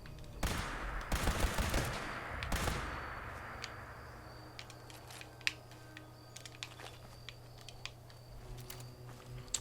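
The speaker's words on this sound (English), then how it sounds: "that does make noise when you're shooting a critter" Gunfire in the video game Fallout 76, a cluster of loud bursting shots in the first few seconds, then sparse faint clicks and ticks over a low steady hum.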